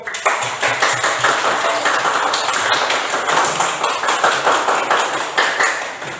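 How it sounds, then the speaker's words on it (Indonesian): Classroom applause for a student group after their presentation in a teaching practice lesson, a loud, dense run of hand claps continuing steadily from start to end with little speech. "Tepuk tangan dulu untuk kelompok."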